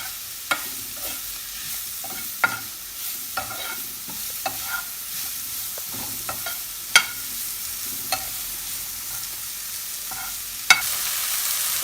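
Onion and spices frying in a pan, with steady sizzling throughout and sharp scrapes and clacks of a spoon stirring at irregular intervals; no voices.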